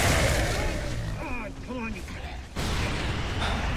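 Gunfire in Gears of War rattles loudly at the start and again near the end, with a break in between. Someone talks over it the whole time.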